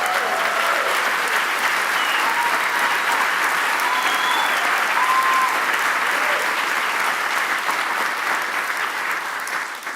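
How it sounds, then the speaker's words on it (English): Sustained audience applause in a large hall during a conference address on gun violence prevention, dense and even clapping throughout with a few faint cheers and whistles rising above the crowd. "as your applause indicates"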